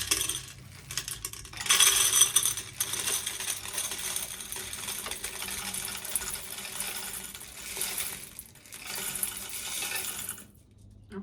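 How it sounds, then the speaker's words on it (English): Small buttons poured into a gumball machine make a loud, dense clatter for about two seconds, then a steady rattle and tumbling of plastic pieces continues with brief pauses, ending in near silence. "So let's pour these buttons in here."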